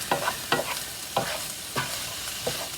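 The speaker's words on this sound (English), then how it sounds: "let's give that little bit of a stir" Fajita pasta mixture being stirred in a hot frying pan, with repeated scraping strokes roughly every half second over a steady close sizzle.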